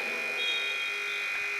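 End-of-quarter buzzer at a basketball game, one steady high-pitched tone held for its whole length over arena crowd noise.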